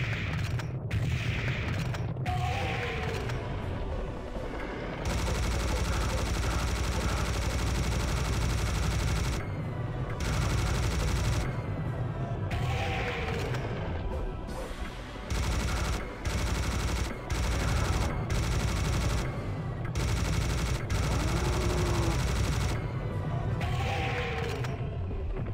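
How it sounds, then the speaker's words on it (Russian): Gunfire in the video game Serious Sam as skeleton enemies are shot, with repeated loud bursts and rapid fire over a dense, continuous game soundscape, broken by brief gaps. "Даже можно стоять здесь просто и отстреливать их."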